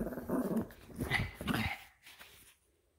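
A dog growls and grumbles up close during a game of fetch in a basement, a few rough throaty bursts over about two seconds before trailing into quiet.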